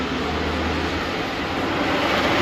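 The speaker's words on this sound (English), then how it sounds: "when the train traverses the track," Predator roller coaster train running on its Titan track, a loud broad continuous roar and rumble throughout, steady and close, with no speech.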